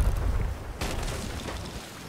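Ship cannon fire in Sea of Thieves: deep booming blasts with heavy low rumble, one sharp report standing out midway, fairly loud and echoing.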